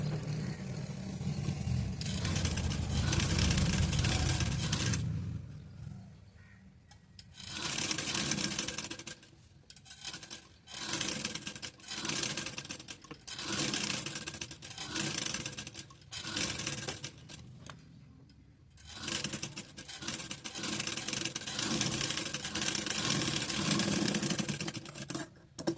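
A sewing machine stitches a blouse neckline in repeated short runs of rapid whirring, separated by brief pauses, close and fairly quiet.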